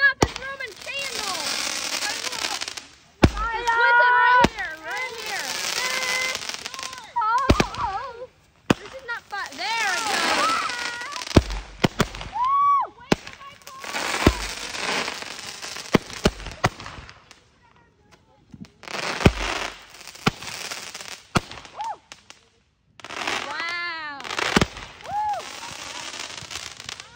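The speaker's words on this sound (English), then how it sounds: "Ivy got Clinton firing up his Roman candle." Roman candle fireworks go off outdoors at a Fourth of July gathering, with repeated bursts of crackling, whistling shots spread over the clip. Voices talk and shout between and over the firing.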